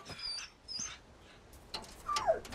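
A dog whimpers in the video game Resident Evil 4 Remake, giving several soft, high-pitched whines and short yips in separate bursts over a quiet background.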